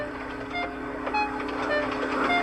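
Steam engine 98462 puffing into a station platform with coaches coupled behind, a steady rumbling chug with faint clanking and hiss throughout, moderately loud and continuous.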